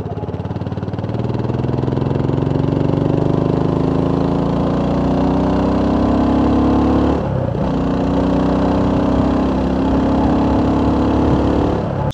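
A BSA Gold Star 650 motorcycle engine roars loudly and continuously, revving up through the gears with a brief dip as it shifts, heard up close.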